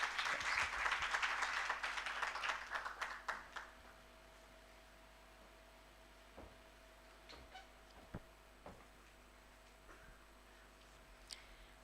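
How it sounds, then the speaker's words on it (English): Audience applause at a child and adolescent health research forum, a burst of clapping that tapers off within a few seconds into a quiet room with a few stray taps and knocks. "Please give her a hand clap."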